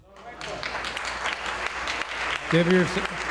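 Applause from an audience at a Tent of Abraham fundraising event, a sustained crowd clapping that swells toward the end, with a voice speaking briefly over it.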